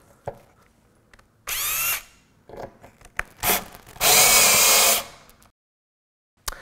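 A power drill fitted with a screw extractor whines in short bursts as it works a stuck fastener out of reclaimed wood, with a longer loud grinding run and brief clicks and scrapes between bursts, close up and without talk.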